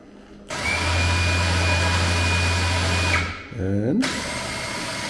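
A Can-Am 4500 lb winch motor on a 2021 Maverick Trail runs with a loud, steady electric whine, dips and briefly stops, then spins back up with a rising pitch.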